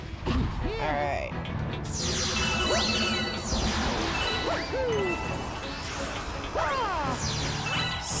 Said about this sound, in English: Time to break some glass.